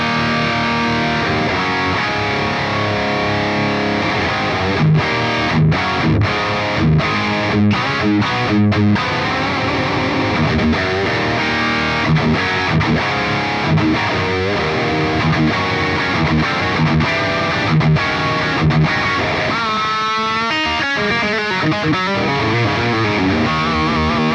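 Heavily distorted high-gain electric guitar through the Line 6 Helix EV Panama Red amp model, playing chords and riffs, loud and continuous, with no voices.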